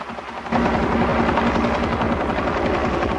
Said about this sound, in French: Hélico 3 à ponter.